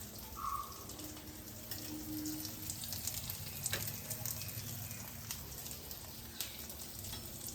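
Sliced ivy gourd (kovakka) fries in a pan with a soft, steady sizzle, quiet and continuous, with faint clinks and brief stirring noises.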